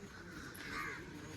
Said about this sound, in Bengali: আমাদের কাক ডাকছে।